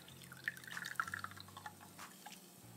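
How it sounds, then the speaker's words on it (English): Oat milk pours and drips through a fine mesh sieve, giving soft, close trickling and patter with several brighter drip splashes, fairly quiet throughout. "adding the oat milk to the sieve"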